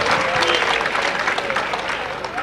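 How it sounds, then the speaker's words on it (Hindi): Dense, steady applause from a large audience at a Hindi kavi sammelan (poetry gathering), loud and continuous throughout with a faint crowd murmur underneath. "अच्छा लगे तो तालियों से बताते हैं।"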